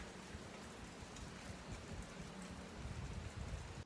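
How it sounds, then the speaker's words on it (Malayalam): A steady, soft patter of light rain falls continuously, a broad hiss without pauses and no talking. "ചെറുതായിട്ടൊരു മഴയൊക്കെ പെയ്യുന്നുണ്ട്"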